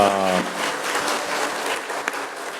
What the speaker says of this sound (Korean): 장시간 강의해 주시고 또 논평해 주시고 번역해 주신 우리 두 분 형제님께 큰 박수 부탁드립니다.